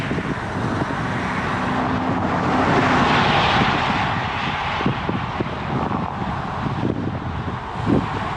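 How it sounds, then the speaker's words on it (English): A 5317 engine being revved from inside, a steady broadband roar that swells mid-way, with road traffic noise mixed in and no talking. "I'm sitting in a 5317 right now, just revving it."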